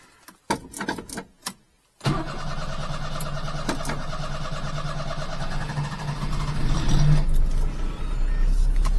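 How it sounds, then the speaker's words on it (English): A micro van engine with a freshly adjusted carburetor sputters through several uneven cranking bursts, falls silent briefly, then catches and settles into a steady, moderately loud idle that swells slightly toward the end. "I honestly don't mind it cranking a little bit before it starts."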